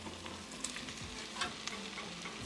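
Paneer stirred into sweet peas and tadka in a hot pan, a soft continuous sizzle with a few brief spoon scrapes and taps, quiet and close, no voices.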